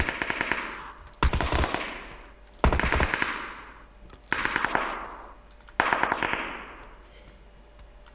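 Video-game automatic gunfire rattles out in five separate loud bursts, each a rapid string of sharp shots followed by a fading echoing tail, with short pauses between bursts and no talk.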